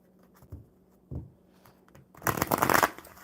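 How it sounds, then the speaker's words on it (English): A deck of playing cards is shuffled at a table: a couple of soft taps, then a dense riffling burst, close and fairly quiet. "let me shuffle these one more time"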